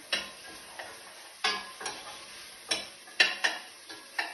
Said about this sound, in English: Just give the vegetables a stir.